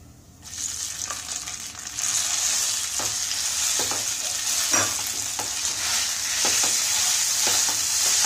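Cooked dalia is stirred and fried with cashews and almonds, giving a bright continuous sizzle after a quiet start, with repeated spoon scrapes and taps against the pan and no speech.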